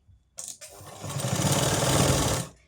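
A sewing machine stitches blouse fabric along a centre seam, starting with a couple of brief bursts before settling into a steady, close, continuous whirring run that stops abruptly.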